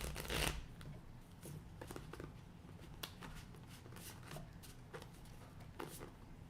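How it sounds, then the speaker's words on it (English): Oracle cards being shuffled by hand indoors, a soft, quiet run of papery riffles and flicks with small taps, continuous and close, with no talk. "But Violet Sky, we're going to pull a composition oracle card for you."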